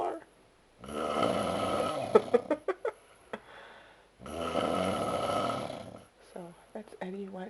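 A man snoring in long, rough rasping breaths, two loud drawn-out snores separated by quieter gaps, with a few short sharp snorts and some faint vocal sounds between them, close and clear.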